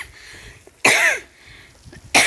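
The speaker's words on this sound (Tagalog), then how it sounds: "Hanggang ngayon, hindi po naaalis ang aking ubo" A person with a lingering cough, in hot weather, gives two sharp, loud coughs close to the microphone, the second cut off at the end, with quiet pauses between.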